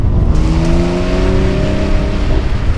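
A Porsche 911 engine at a driving experience centre drones loudly and close as the driver lifts off the throttle, a sustained steady engine tone without sharp revving or tire squeal.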